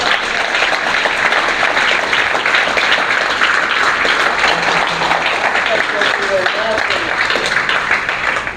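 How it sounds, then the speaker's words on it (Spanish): A congregation at a Mexican church service bursts into sustained applause, dense steady clapping filling the room for several seconds with crowd voices mixed in throughout. "Denle un aplauso a Cristo."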